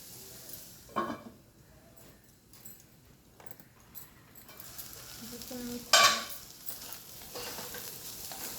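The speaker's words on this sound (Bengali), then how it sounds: "এবং কত সুন্দর ভাজাটা হচ্ছে।" Bottle gourd peel frying in a pan over low heat gives a soft, faint sizzle, broken by occasional scrapes and clinks of a spatula stirring it, close and without talk.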